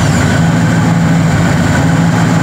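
A Chevrolet 350 V8 in a truck idles after starting, a loud, steady low rumble with an even pulsing beat and a faint high whine, close by and without talk.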